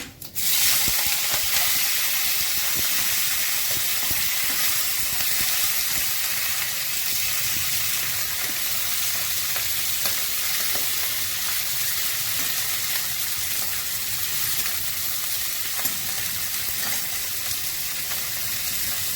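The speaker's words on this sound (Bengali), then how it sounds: "পাঁচ ফোড়ন দিচ্ছি এবার আমি চিংড়ি মাছ দিয়ে দিচ্ছি" Prawns and panch phoron frying in a pan for a vegetable dish of pui greens and pumpkin, giving a loud, continuous broadband sizzle that holds steady for the whole stretch with faint scraping underneath.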